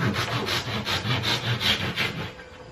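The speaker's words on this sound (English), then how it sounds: "using the saw, backing up maybe like a half inch or so" A hand saw cuts back and forth through wood to shape a homemade plug, giving about ten steady rasping strokes at close range, each stroke a gritty scrape with no speech.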